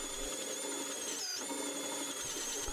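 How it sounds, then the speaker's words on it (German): A new but very dull 40 mm Forstner bit bores into wood, a steady whining drill tone held at an even level, briefly dipping in pitch as the bit bogs down, with no one talking. "Jetzt das Desaster mit einem 40 mm Forstner Bohrer."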